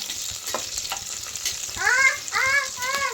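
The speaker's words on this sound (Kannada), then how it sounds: "ಉಳ್ಳಾಗಡ್ಡಿ ಸ್ವಲ್ಪ ಫ್ರೈ ಆಗಲಿ ರೀ" Onions fry in a pan with a steady broadband sizzle, while a voice speaks in the last second and a half over the crackle.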